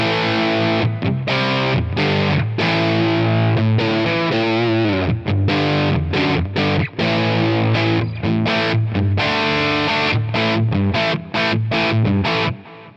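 Electric guitar played through a crunch bright tone from a Benson amp capture on a Quad Cortex, loud distorted chords strummed in choppy rhythmic bursts with brief gaps, alone without talk.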